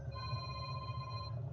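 Quiet telephone ringing in a room, a steady electronic ring tone held under faint low hum, heard alone without talk.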